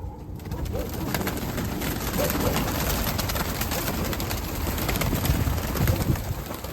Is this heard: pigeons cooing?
yes